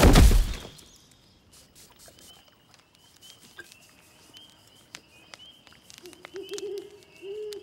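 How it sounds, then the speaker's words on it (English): A Grand Horned Canadian owl hoots in a wooded wilderness, preceded by a short loud burst, then faint soft hoots and light pattering sounds drift in the quiet background with no speech. "That is the cry of a Grand Horned Canadian owl."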